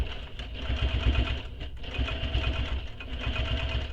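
A sewing machine stitches binding onto a large backpack, with a steady close rapid mechanical chatter that runs continuously with slight pulses, no voices.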